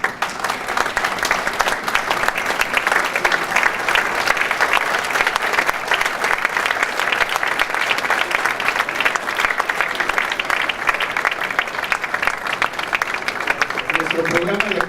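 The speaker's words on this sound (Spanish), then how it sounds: "suplico a ustedes que lo despidamos con un caluroso aplauso" A breakfast-event audience gives a warm, sustained round of applause bidding farewell to Peruvian President Ollanta Humala, dense clapping at constant loudness for the whole stretch with no talk over it.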